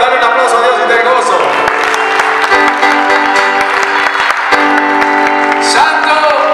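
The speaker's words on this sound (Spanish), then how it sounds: "Dale un aplauso a Dios y está el gozo." A church congregation applauds and cheers during a worship service, loud, dense clapping and whoops mixed with music and voices throughout.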